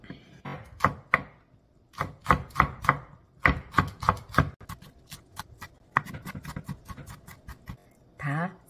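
A kitchen knife minces five Cheongyang chili peppers on a board in quick bursts of sharp, close chops, irregular clusters of taps with brief pauses, with a short scraping sweep at the end.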